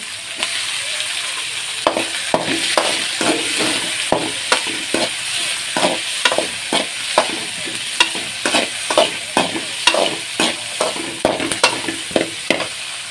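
Tomatoes sizzle in a frying pan while a spoon stirs them, a constant frying hiss punctuated by rhythmic scraping clacks about twice a second, close and clear.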